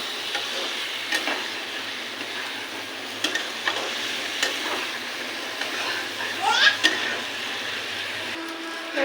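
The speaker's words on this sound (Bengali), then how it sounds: "এবার দিয়ে দেবো মাছটা লোটে মাছটা" Thick Bombay duck (lote) fish fries in a pan, giving a steady, moderately loud broadband sizzle with a few faint clicks and pops over a low background hum.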